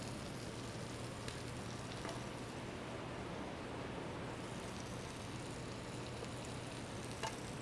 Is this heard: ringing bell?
no